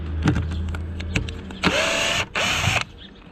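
A power tool cuts a wooden board during ramp construction: a few scattered clicks and knocks, then two loud, close bursts of whining motor, each under a second, separated by a short gap.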